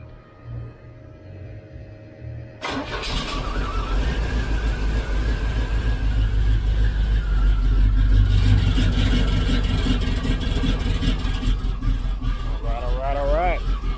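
A 1972 Chevrolet C10 shop truck engine cranks and catches after silence, then runs on as a loud, rough, continuous low rumble, with a faint rising whine late on.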